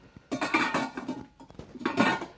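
Polished steel Maestro MR 3501 cookware pots and lids knocking and clinking together, two clusters of close metallic clatter with a brief pause between, no talk.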